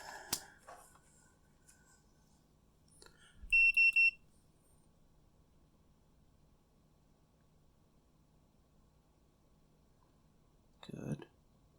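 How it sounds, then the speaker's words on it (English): Multimeter continuity beep while testing a lightsaber blade's wiring, a short sharp electronic tone stuttering in three quick pulses, preceded and followed by faint clicks and handling noise in a quiet room. "Quick continuity check."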